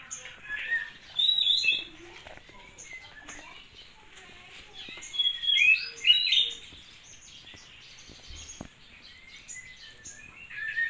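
Birds chirp in short bright bursts that come and go in a couple of clusters, moderately near over a quiet background, with occasional light rustling.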